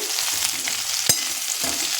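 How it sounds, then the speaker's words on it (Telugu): Garlic and green chilies frying in hot oil: a steady, bright sizzle with a sharp crackle or pop near the middle, continuous and close. "నూనెలో వేగిన వెల్లుల్లిపాయలు కూడా బాగుంటుంది పచ్చిమిర్చితో పాటు"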